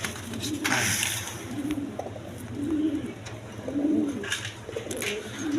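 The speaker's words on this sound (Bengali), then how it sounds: "দেখেন আপনার কালদম কবুতর, একদম বিগ সাইজের দেখার মতো কবুতর" Large kaldom pigeons at a pigeon sale coo in repeated low, throaty phrases, fairly close, over a steady background hum, with faint chatter from people nearby.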